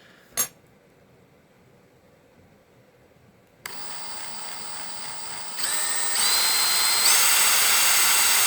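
A power drill grinds into an aluminum can during a stove build. A sharp tap comes first, then quiet, then a loud high whine that starts abruptly and rises in stages, with no talking.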